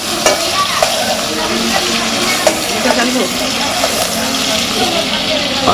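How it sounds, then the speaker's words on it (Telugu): Potatoes frying in hot oil for aloo egg fried rice, a steady dense sizzle and crackle filling the whole stretch, close and fairly loud, with occasional stirring scrapes and no talk. "ఆయిల్ అయితే హీట్ అయింది సో ఫస్ట్ అయితే ఆలు అయితే వేసేసుకున్నారు"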